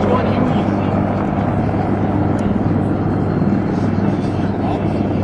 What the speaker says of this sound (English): a helicopter squadron consisting of AH-1 Cobra Attack Helicopters that you shall soon see